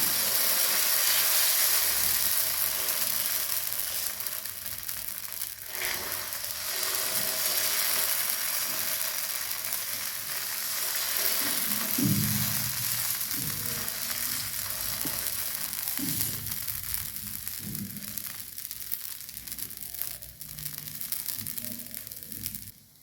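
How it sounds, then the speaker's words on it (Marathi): Mung bean and rice dhirde frying in oil on a pan, a steady close sizzle and hiss that softens and swells over time, with occasional scraping and turning sounds, no talk. "साईडने थोडंसं ऑइल टाकून घ्यायचं आहे. आणि आलटून पलटून दोन्हीकडून भाजून घ्यायचं आहे धिरडे."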